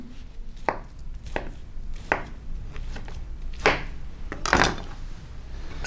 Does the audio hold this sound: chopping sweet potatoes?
yes